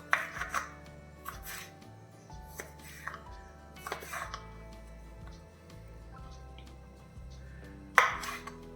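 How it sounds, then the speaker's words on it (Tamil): Raw jackfruit, cleaned of its inner skin, is cut into long pieces with a knife on a board: a few separate, sharp chopping knocks spaced irregularly, fairly close, with quiet stretches between them. "நாம் வந்து நீளமாக கட் பண்ணிடலாம்"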